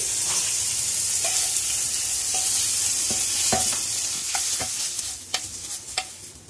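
Vegetables fry in oil in a pan over a medium flame, giving a continuous loud sizzle broken by scattered scraping clicks from a utensil stirring and turning them.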